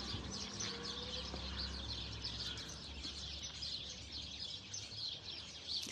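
Birds chirp and call continuously from backyard Eugenia bushes in a garden, a dense, steady mix of tweets with a faint lower hum underneath and no talking.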